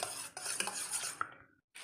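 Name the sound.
stirring scrambled eggs (egg bhurji) in a pan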